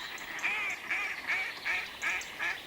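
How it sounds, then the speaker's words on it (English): A mallard duck on a lake in the Vosges gives a rhythmic series of about six nasal quacks, evenly spaced and fairly close, against a quiet outdoor background. "Paddling away on the water's surface is a mallard duck."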